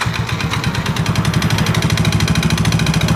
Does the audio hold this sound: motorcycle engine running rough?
yes